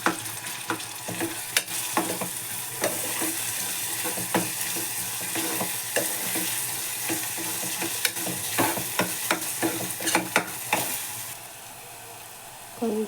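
Ginger garlic paste and onions sizzle in a pan for an egg curry, with continuous frying hiss and frequent sharp scrapes and clicks of a stirring spoon, close and alone.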